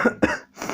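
Three rough coughs in a row, close and fairly loud, with short gaps between, the last one longer and raspier.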